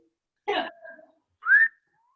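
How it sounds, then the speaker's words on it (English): A short breathy burst followed by a single rising whistle from a person, brief and close, in an otherwise quiet space. "but I'm whistling at you too."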